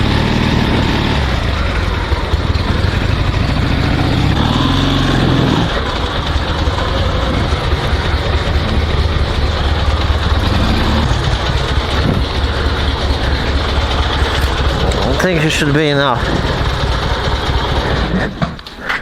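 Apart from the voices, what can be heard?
survival sidecar motorcycle engine running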